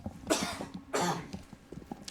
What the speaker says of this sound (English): just clear my throat there a little bit